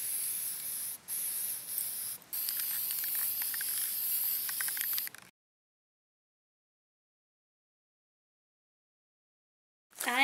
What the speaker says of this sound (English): I just put this on a paper plate and I'm going to spray this.